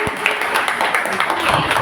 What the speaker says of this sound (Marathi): त्याच्यासाठी जोरदार टाळ्या झाल्या पाहिजे.